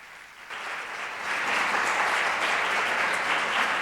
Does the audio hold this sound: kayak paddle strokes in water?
no